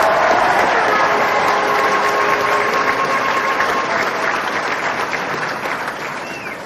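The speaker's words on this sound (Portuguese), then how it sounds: "Do começo ao fim do ano, palmas incessantes." Continuous applause from a podcast studio audience, loud, even clapping that carries on steadily before fading gradually near the end, with no speech over it.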